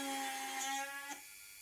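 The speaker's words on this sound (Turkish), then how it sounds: "Ben şu an dremelle yapıyorum." A Dremel rotary tool drilling holes into a dried gourd gives a steady high whine close by, then cuts off suddenly near the end, leaving near quiet.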